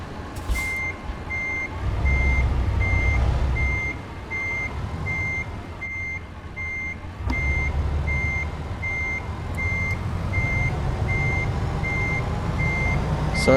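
Truck reversing beeps in American Truck Simulator: a steady, evenly spaced electronic beep repeats loudly over a low diesel engine rumble, with a brief air brake hiss partway through.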